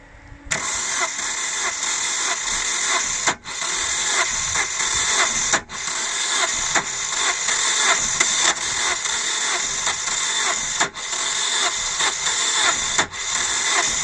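A Holden Astra 2000 engine with a hard-starting fault cranks for a long time, the starter whirring loud and steady in repeated stretches broken by brief pauses, without catching.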